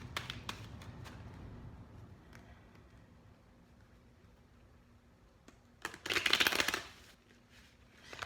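Tarot cards are shuffled in a few light riffling bursts, with a louder fluttering rush near the end as cards slip and fall, close up and with no talking.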